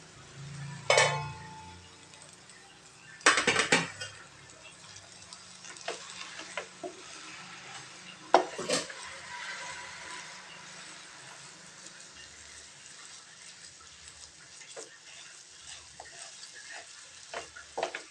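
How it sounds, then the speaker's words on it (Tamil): Grated coconut being stirred and turned in a hot pan, giving a soft continuous sizzle broken by a few sharp scrapes and clinks of the spoon against the pan, close and otherwise quiet. "தேங்காய் துருவல் சேர்த்துட்டு நல்லா பெரட்டி கிளறி விட்டுக்கலாங்க."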